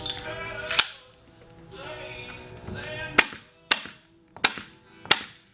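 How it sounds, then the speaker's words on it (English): Staple gun firing into stretched canvas on a frame: five sharp, loud snaps, spaced about half a second to a second apart, with a rustling, handling sound of canvas between them. "I got one side stapled all the way down."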